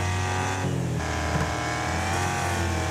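Race car engines roar steadily in Wreckfest C Class online racing, a loud continuous drone with shifting harmonic tones, no voices heard.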